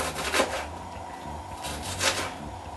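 A knife cuts through accras dough on a board, producing two short scraping, rubbing strokes close by against a quiet background.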